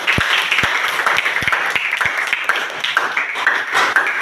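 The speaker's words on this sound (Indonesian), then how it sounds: "berikan tepuk tangan" Scattered clapping from a small group after a classroom presentation on number patterns, a handful of sharp distinct claps over a steady background.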